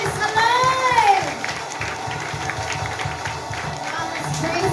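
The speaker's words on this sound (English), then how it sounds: "Once again, a loud clap of praise to our God who is alive." A church congregation claps loudly in praise, a steady crowd patter with some cheering under a preacher's voice, fading slightly after the first second.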